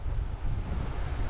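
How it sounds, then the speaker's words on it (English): Strong wind buffets the microphone outdoors beside a lake, a steady loud rumbling roar with no one talking. "The wind,"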